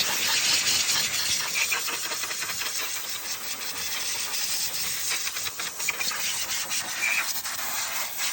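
Brake cleaner sprayed around the valve cover of a 2014 Nissan Altima 2.5 engine: a continuous close, loud aerosol hiss with slight rubbing and rattling texture, running steadily without speech.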